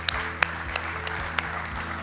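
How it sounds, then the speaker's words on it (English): Steady applause from a room full of people at a corporate business presentation, an even wash of clapping with a few sharper individual claps standing out. "So please, big applause to every and each one in the room."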